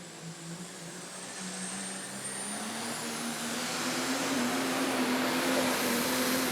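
A super stock diesel truck at a truck pulling event in Goshen, Indiana, roars under heavy load, its engine note climbing steadily and growing louder over several seconds with a high turbo whistle on top.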